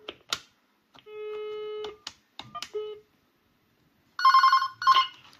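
Telephone on extension 41 of a PBX switchboard under repair rings in short electronic bursts, with sustained tones and beeps separated by silence, close and clear.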